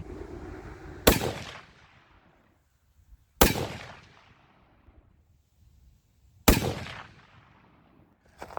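Three loud, sharp rifle shots from a 6.8 Western rifle loaded with H1000 powder, each fired close by and separated by a few seconds of quiet, with a decaying outdoor echo after every blast.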